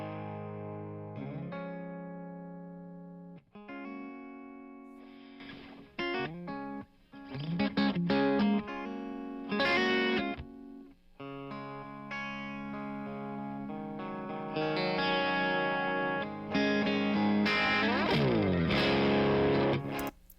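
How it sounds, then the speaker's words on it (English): A heavily distorted electric guitar chugs through a rhythm part, loud and saturated with chords and sustained notes from a Marshall amplifier, no voices. "This is just a big rhythm track, and it's this guitar."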